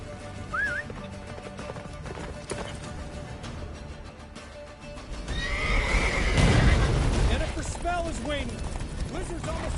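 Roach the horse gallops in a video game, hooves clopping beneath repeated whinnies and neighs, with the commotion swelling louder in the middle of the clip.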